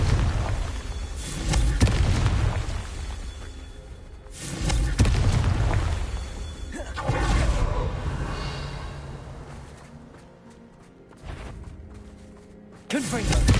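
Repeated Confringo blast spell explosions in Hogwarts Legacy, played on PS5: several heavy booms land a few seconds apart, each a loud low-heavy burst that rumbles and decays, with a final blast at the end.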